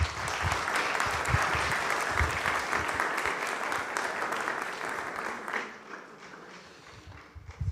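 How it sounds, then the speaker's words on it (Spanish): Audience applause at a 70th-anniversary ceremony for a Franciscan novitiate in Guadalupe, Zacatecas: dense, sustained clapping by a crowd that thins and fades out near the end. "damos un fuerte aplauso a Fray Sergio."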